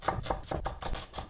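Knife finely chopping garlic on a board, about six quick even taps at close range, with no voices.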